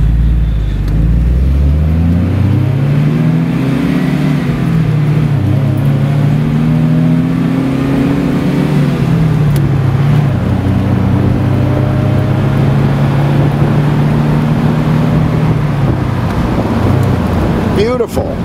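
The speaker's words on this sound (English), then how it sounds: "with the top down, I know all you're going to hear is wind noise" A 1979 MGB Roadster driving with the top down, engine droning and shifting pitch as it accelerates and changes gear, under steady loud wind rush throughout.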